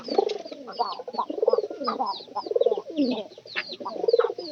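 A nesting pigeon raising chicks coos close up in a steady series of throaty, rhythmic bursts, each rising and falling roughly every half second, with no talk over it.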